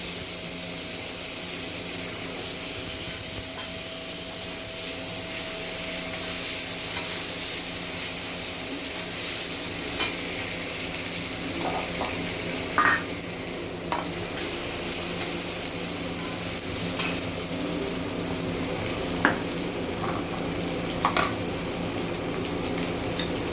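Potatoes just dropped into hot oil in a pan, a sustained hissing sizzle with occasional sharp pops and crackles scattered through, steady and close, no one speaking.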